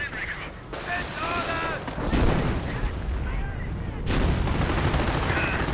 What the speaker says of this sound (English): some very nasty artillery fire doing quite a bit of damage to the forces of Solo